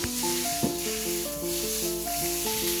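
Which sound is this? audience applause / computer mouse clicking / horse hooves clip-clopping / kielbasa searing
kielbasa searing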